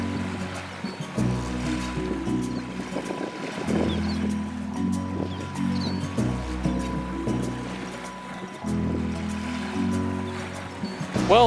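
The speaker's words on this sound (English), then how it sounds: "the waves are going to be much bigger than they would be otherwise. I mean, these are nothing." Small, gentle ocean waves wash onto a Gulf Coast beach, a steady low rolling surf with soft repeating swells and no voices.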